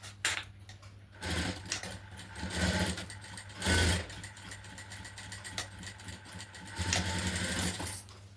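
Sewing machine running steadily to stitch a blouse, a continuous mechanical whir with rhythmic needle ticking and brief bursts of faster stitching, close and alone without speech.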